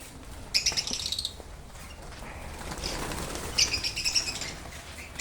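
Pigeons or doves in an aviary colony flap their wings in short bursts close by, with light chirps and coos scattered over a soft ambient background.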